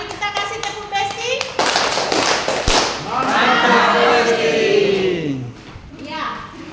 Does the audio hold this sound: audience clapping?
yes